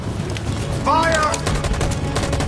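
Gunfire in the video game Detroit: Become Human, rapid loud bursts packed into a short stretch, mixed with a brief shouted voice and background battle noise.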